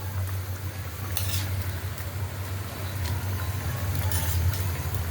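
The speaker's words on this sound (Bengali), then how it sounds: "আমি এখন মাছগুলো দিয়ে দিতেছি," Fried fish going into a pan of simmering curry, with a steady low sizzle and bubbling throughout and a few brief clinks or splashes as the pieces are added.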